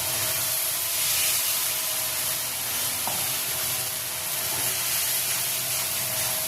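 A paste of cashew, melon seed, ginger and green chili hits hot fried spices in the pan, producing a loud, steady sizzle and hiss that runs unbroken from start to finish.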